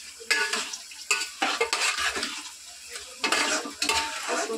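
Marinated meat scraped and stirred around a hot pan, with repeated loud scraping strokes of a utensil over a steady frying sizzle and occasional clinks of metal against the pan; no voices.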